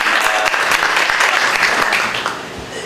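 An audience at a fair housing discussion claps loudly and steadily, dense applause that fades toward the end.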